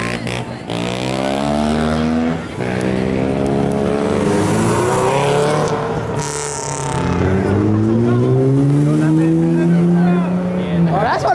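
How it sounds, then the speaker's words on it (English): A Toyota Camry at a car meet revs hard during a burnout, its engine rising and falling in loud sweeping pitches with tire noise, close and continuous, while people talk nearby. "Oh, that's what a Camry sounds like when it's off"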